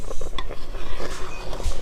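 Milk pitha (kheer dubi) simmering in a pot is stirred with a utensil, giving repeated clinks and scrapes against the pot over a bubbling, rumbling background.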